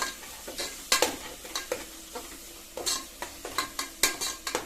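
Chopped tomato sautés in a pan for wheat rava kichadi, a soft sizzle under repeated scraping strokes of a spatula, close and fairly quiet.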